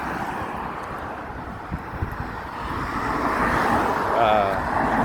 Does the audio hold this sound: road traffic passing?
yes